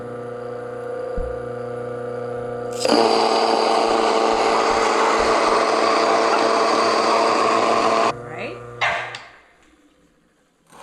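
A Mockmill Lino 200 grain mill grinding half a cup of rice on its setting 10 starts with a loud steady whirring grind that runs for several seconds, then winds down; hum and a brief voice are heard before it.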